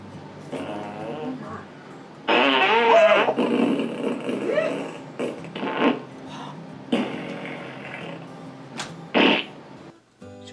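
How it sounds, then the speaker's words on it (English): Comic fart sound effects for uncontrollable flatulence, a run of loud, wobbling, bleat-like blasts with several shorter bursts and gaps between them, heard alone without talk. "Uncontrollable flatulence."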